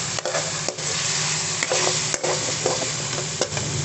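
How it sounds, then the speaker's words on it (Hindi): Cut potato being fried into minced keema in a pan produces a loud, close sizzle with spatula scrapes and stirring knocks at intervals throughout. "ये मैं इसके अंदर डाल दूँगी। अच्छे से इसकी भुनाई कर देंगे।"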